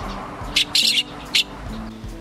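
A fledgling bird, fallen from its nest hole and not yet able to fly, gives a few short high chirps, near and fairly clear, over a low steady background hum.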